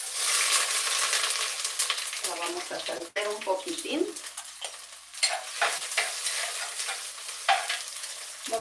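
Sliced onion sautéing in a pan, with loud sizzling and frying hiss throughout and scraping stir strokes breaking through, close up, with a voice briefly audible.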